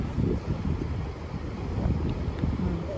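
Steady wind rushes and buffets the microphone outdoors at Enoshima, Japan, a continuous low roar that swells slightly without pause.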